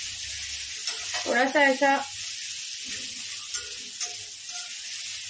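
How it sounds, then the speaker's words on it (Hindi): Curry leaves crackle and sizzle loudly in hot oil for a South Indian vermicelli upma, a sharp burst of spitting that fades into a softer fry, with someone speaking briefly alongside. "अभी मैं डाल रही हूँ कड़ी पत्ता"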